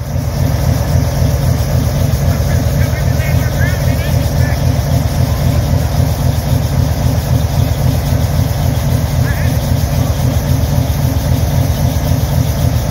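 A large EMD 645E diesel locomotive engine idles loudly and steadily with a deep, pulsing throb, close by, while faint voices murmur briefly underneath.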